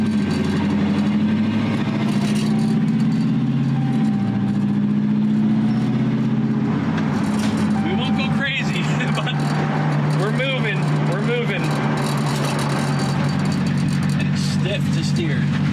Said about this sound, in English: Challenger Redeye crate motor that we got from Cleveland, like I said. And we're driving it